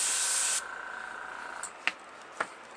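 An airbrush fed by a compressor at 26 psi lays a wet coat of Testors Aztek acrylic paint on a Super Stock model body, a brief close hiss that stops within a second, followed by quiet and a couple of faint clicks.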